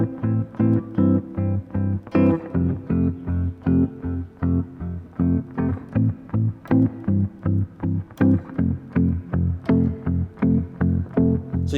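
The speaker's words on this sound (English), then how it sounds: "So the difference between palm muting and not palm muting sounds like this." Electric guitar chugging a repeated riff, alternating between open ringing notes and tight palm-muted strikes, in a steady loud rhythm without any voice.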